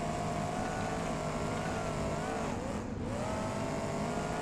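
A monster truck in the BeamNG driving game races down a strip at a freestyle event, its engine a steady, loud drone with a brief dip and rise in pitch as it shifts or launches.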